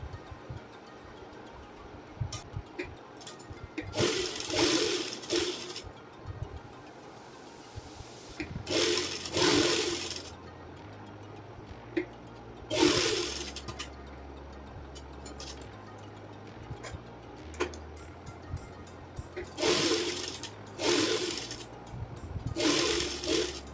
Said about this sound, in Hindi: अब यहाँ हम सिलाई लगा देंगे।